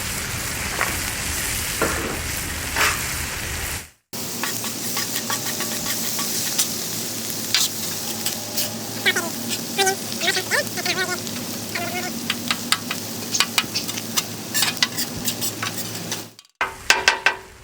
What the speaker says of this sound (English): Let's get these mushrooms and onions on here with that bacon grease.